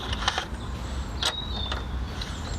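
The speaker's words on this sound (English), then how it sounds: "Now you can use a socket for this, again that would probably be a little bit quicker, but I shall use a spanner." A spanner working a top strut mount nut loose on a modified MK6 Fiesta: close metallic clicks and creaks in a short, uneven series, with no talking.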